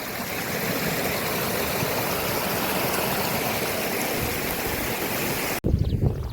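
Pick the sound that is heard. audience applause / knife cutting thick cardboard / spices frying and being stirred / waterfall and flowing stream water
waterfall and flowing stream water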